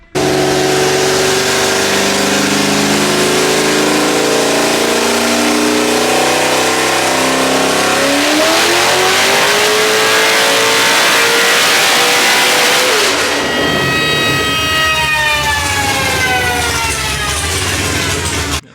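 A high-compression naturally aspirated 402 cubic inch engine on a dyno, revving up in one long, loud pull toward 7,400 RPM with its pitch climbing steadily, then dropping off and winding down.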